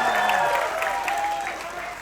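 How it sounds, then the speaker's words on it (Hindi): Audience applause at a stand-up comedy show, a crowd clapping loudly and evenly, tapering slightly toward the end, while someone talks over it. "मेरे चाचा आए, तो उनके लिए ताली बजाओ एक बार।"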